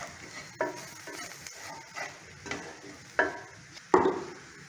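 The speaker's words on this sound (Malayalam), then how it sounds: "ഇനി ഇത് നമുക്കൊന്ന് പച്ചമണം മാറുന്നത് വരെ ഒന്ന് വഴറ്റിക്കൊടുക്കാം." Garam masala spice mix sautéed in a pan for egg masala curry, with soft scraping stirs and a few sharper spatula knocks against the pan over a faint background sizzle.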